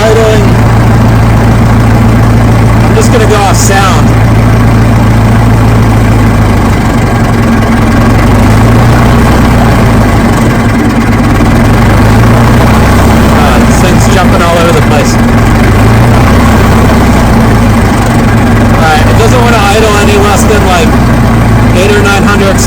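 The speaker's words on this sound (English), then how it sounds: "I kind of remember this idling." A Case 580CK backhoe's diesel engine idles steadily and loud, a deep continuous rumble with a low throb and faint mechanical rattles throughout.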